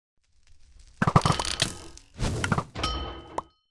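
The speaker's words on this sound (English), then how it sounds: "As he rounds the corner, I fire another barrage." A weapon barrage in a video game rattles out in three clustered bursts of mechanical clanks, thunks and ratcheting hits, loud and close, after a near-silent start.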